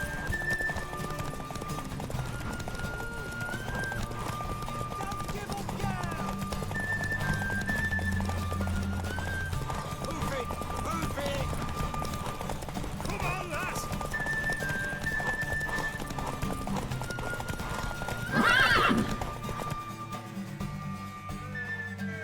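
Horse hooves clip-clop steadily through a Witcher 3 game scene, with a whinny rising near the end amid background game music and voices talking.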